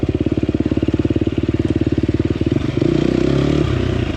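A 2024 KTM 250XCF dirt bike's four-stroke engine pulses in a steady, close rhythm, then swells louder as the throttle opens around the third second and holds a stronger drone to the end.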